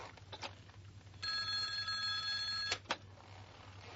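An old-style telephone bell rings in one steady burst of about a second and a half, fairly close and clear, with a couple of soft knocks and a low room hum around it.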